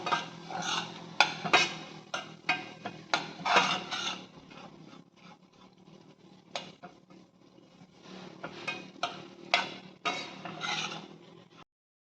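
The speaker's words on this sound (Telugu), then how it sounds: "ఇక్కడ రవ్వ వేయించుకోవాలండి. దోరగా వేయించుకోవాలి." Semolina (rava) is dry-roasting in a pan while a utensil stirs and scrapes it in irregular bursts, close and fairly clear, with a quieter stretch in the middle.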